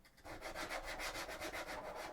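Hand sanding across plastic miniature thigh armour for a Warhammer 40K Sisters of Battle model: steady, close rasping strokes in a quick even rhythm, loud and alone with no voices.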